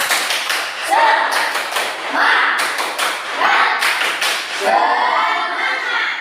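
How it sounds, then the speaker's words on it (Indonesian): Schoolchildren in an Indonesian classroom perform the 'tepuk semangat' chant, rhythmic bursts of group clapping in several phrases mixed with their voices calling out, loud and close. "coba kasih Pak Guru tepuk semangat"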